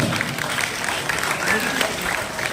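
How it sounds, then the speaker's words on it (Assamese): Audience clapping fills a hall at a school felicitation ceremony, a steady dense wash of hands throughout with voices mixed in. "আপোনালোকে সকলোৱে ডাঙৰকৈ হাত চাপৰি বজাব দেই"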